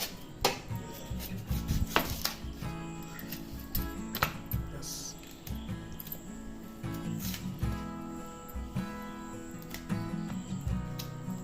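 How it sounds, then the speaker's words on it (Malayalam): Onion being cut into small pieces with a knife, a run of quick close taps on a board with brief rubbing scrapes between strokes, fairly soft, with a voice speaking at times. "ഉള്ളി ചെറുതായിട്ട് നമ്മളിങ്ങനെ ചെറിയ ചെറുതായിട്ട് കട്ടാക്കി കൊടുക്കും"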